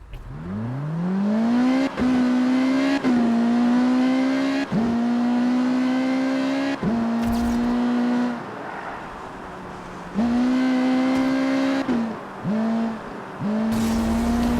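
A Ferrari driven in Need for Speed Rivals, its engine loud and close, revving up repeatedly through gear changes with brief drops in pitch between pulls, no talking.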